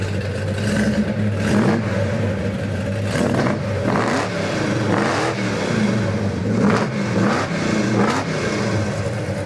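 A 1972 GMC Sprint SP with an upgraded 454 big block V8 revs repeatedly, loud and close, its deep rumble rising in several throttle blips over a steady idle.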